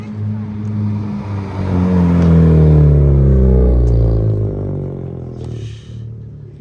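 A Honda Civic Si with an aftermarket exhaust revs at a car show, a deep rumbling engine swelling to a loud peak and then easing off, heard close up with faint background chatter.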